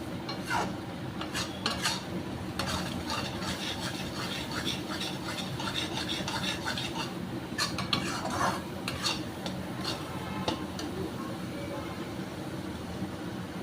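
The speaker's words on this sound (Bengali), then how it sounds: "নাড়িয়ে নিই ভালো করে" Besan halwa stirred over high heat in a pan, a steady scraping and stirring with spoon clatter against metal, close and continuous with faint sizzling underneath.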